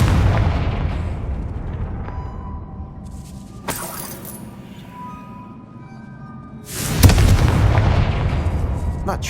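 Two booming blasts from the Confringo fire spell in the game Hogwarts Legacy, a first explosion with a sharp crack around the middle and a second louder roaring burst later, each trailing into rumbling debris.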